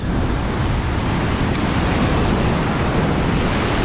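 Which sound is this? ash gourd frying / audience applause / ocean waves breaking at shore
ocean waves breaking at shore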